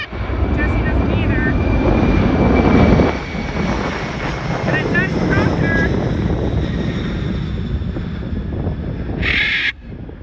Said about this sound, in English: That big plane overhead